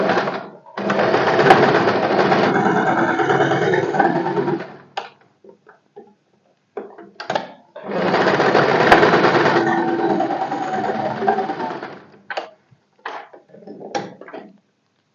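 Sewing machine joining the shoulder seams of a boat-neck A-line kurti, two sustained runs of steady stitching, each about four to five seconds long, separated by quiet pauses and small handling clicks.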